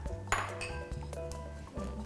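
A microwave oven gives out a string of bright electronic beeps and pings while a bowl of instant noodles in water cooks inside, the tones clear and close over a low hum.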